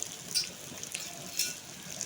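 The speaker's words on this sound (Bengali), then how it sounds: "এটাকে ভালো করে কড়াইয়ের ভিতরে নাড়াচাড়া করে নেব।" A spiced fish mixture with cumin, turmeric and salt is stirred in a wok, giving a faint, soft sizzle with light scraping swishes from the spoon at a couple of moments.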